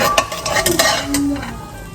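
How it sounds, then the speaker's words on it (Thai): A spoonful of minced garlic goes into a hot pan and is stirred with a utensil for taco filling, giving close scraping and clinking strokes over a light sizzle, with no talk. "ใส่กระเทียมสับนะคะ 1 ช้อน"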